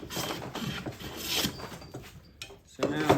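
A hand plane makes a skew cut along the edge of a wooden board, with several close, rhythmic rasping strokes followed by a brief pause and a final stroke.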